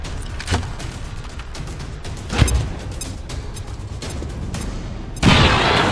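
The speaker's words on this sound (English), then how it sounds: "Throw a grenade!" A grenade blast in XCOM 2 bursts into a loud, sustained roar of broadband noise near the end, following a few sharper gunfire-like cracks and thumps earlier in the clip.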